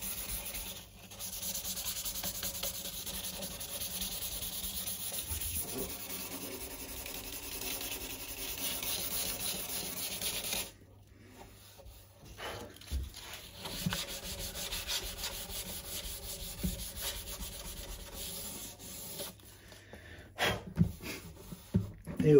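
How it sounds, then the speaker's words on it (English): Steady rubbing of 400 grit sandpaper along guitar fret edges during an acoustic refret, close and quiet, with a break midway before shorter scrubbing strokes resume. "So with the 400 grit, let's just go up the edge, both sides,"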